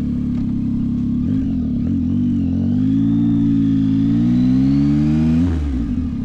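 A 2024 Yamaha MT-09 SP motorcycle engine revs up steadily from a deep idle, the pitch climbing and holding high before dropping sharply near the end. Loud and close, with no talking.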